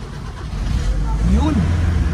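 A 1978 Toyota Crown engine cranks and catches again after stalling, a low rumbling idle with a rising rev partway through, close and steady under excited voices.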